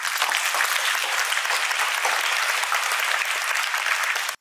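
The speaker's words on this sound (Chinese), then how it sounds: "让我们在这里掌声鼓励他们" An audience at a Singapore national vlog competition event bursts into loud, dense, sustained applause that holds steady for several seconds and then cuts off abruptly.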